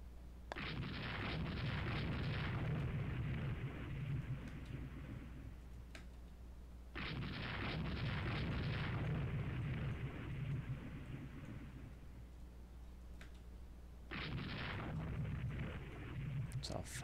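Heavy naval gunfire from 5-inch guns in the warship game Rule the Waves 3: three long, loud, rumbling blasts roughly seven seconds apart, each a broad booming burst that decays into a dull roar before the next.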